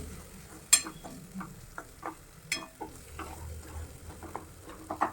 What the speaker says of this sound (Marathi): हे टोमॅटो पूर्ण आपल्याला याच्यामध्ये छान भाजून घ्यायचं आहे. 2 ते 3 मिनिट पूर्ण शिजला पाहिजे तेलामध्ये.